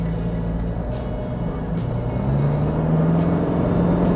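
Toyota Fortuner VRZ fitted with YSS DTG Plus shocks driving fast on a road, a steady engine drone and road roar with a rising tone, continuous and close throughout.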